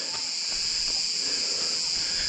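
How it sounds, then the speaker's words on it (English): A constant high-pitched chorus of crickets on an uphill path near a beach in Dalaman, Turkey, drones steadily, with faint rustling beneath and no talking. "You can just hear the crickets."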